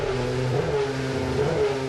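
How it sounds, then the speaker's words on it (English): Formula 1 car engine idling and revving after start-up, a loud, steady mid-range drone with rising and falling pitch sweeps, heard up close without voices. "First of all, they start the engine."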